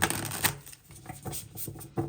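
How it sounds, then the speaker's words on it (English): Tarot cards being shuffled by hand, a run of crisp riffling bursts and soft slaps repeating in quick uneven rhythm, close and fairly loud with no voice. "Oh my gosh, the shuffling."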